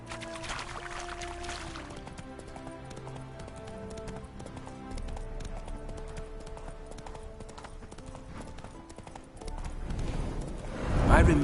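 Horse hooves clip-clopping in The Witcher 3, a steady rhythmic trot over a game soundscape with ambient music, swelling louder near the end.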